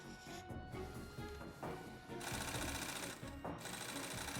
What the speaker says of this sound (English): The pieces are stitched together using tough nylon thread.